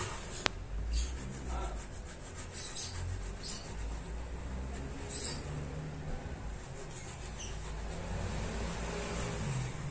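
A knife cuts through baked feqqas, Moroccan biscuits, in slow pressing strokes, a close, continuous dry rubbing and crunching over about ten seconds with a sharp tap near the start, no talk.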